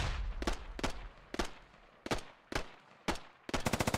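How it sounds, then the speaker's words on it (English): Bursts of gunfire from scattered firefights in the military shooter game Squad, with single shots and short volleys at irregular intervals ending in a rapid automatic burst, fairly distant and moderately loud. "A lot of little firefights breaking out."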